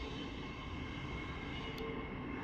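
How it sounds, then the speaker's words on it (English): A Class 801 train arrives at King's Cross station, a steady, fairly quiet rumble with a broad hiss of wheels and engine noise that holds level throughout, with no voices. "the train that's coming in here is 801 222"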